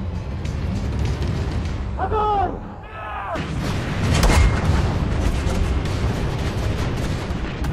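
Deep artillery booms from a massive World War II Soviet barrage roll and rumble continuously, with a brief wavering tonal sound in the middle and a sharper blast shortly after.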